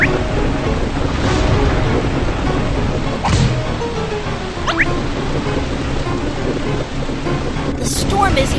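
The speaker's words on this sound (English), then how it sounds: "Watch out! The storm is getting stronger." Video game thunderstorm at sea with rain pouring steadily, a sharp crack of thunder and whooshing gusts rising through the storm, loud and continuous throughout.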